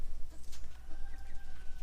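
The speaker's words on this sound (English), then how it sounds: "Hello chickens from Meyer Hatchery." Chickens from Meyer Hatchery on a homestead, giving short, faint clucks and chirps over a low steady background hum in a brief stretch without talk.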